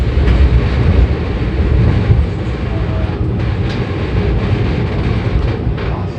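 KA Pangrango passenger train on the Bogor–Sukabumi line near Batu Tulis station, running on rails: a steady, loud, dense rumble with continuous rolling noise throughout, no voices.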